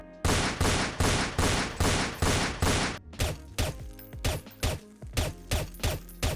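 Two bursts of rapid, evenly spaced silenced pistol shots from Counter-Strike: Source; the first a dense, bright volley, the second a series of sharper, punchier shots.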